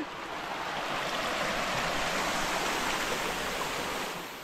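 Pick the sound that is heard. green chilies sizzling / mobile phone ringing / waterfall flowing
waterfall flowing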